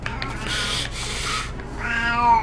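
A house cat meows up close with a drawn-out, rising cry over steady rubbing and scratching noise, loud and alone without talk.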